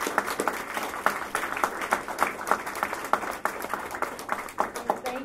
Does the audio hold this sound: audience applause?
yes